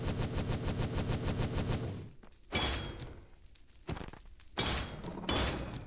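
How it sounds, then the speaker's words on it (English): Explosions in Minecraft during a boss fight in the RogueCraft modpack: rapid repeated blasts for two seconds, then several separate loud bursts with quieter gaps between them. "Oh, explosions."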